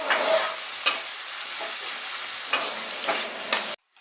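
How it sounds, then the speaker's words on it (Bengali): Chopped tomato sizzles in a pan of browned fried onions, a continuous close frying hiss broken by several sharp stirring scrapes, ending abruptly. "তো দেখো পেঁয়াজটা ভাজা ভাজা হয়ে গেছে। এরপর আমি একটা টমেটোকে দিয়ে দিলাম"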